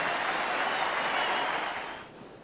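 Cricket crowd of around 18,000 rising to cheer and applaud a great batsman in a 1983/84 Test match against Pakistan, a broad roar of clapping and cheering that fades slightly at the end.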